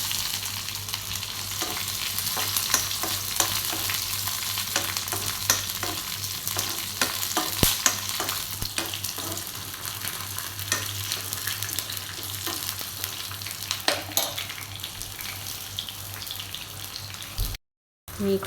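Onions sizzle in hot oil with curry leaves and green chillies while a spoon stirs through them in a steady, close, continuous frying hiss for the length of the take, with occasional scraping accents and a brief cut near the end.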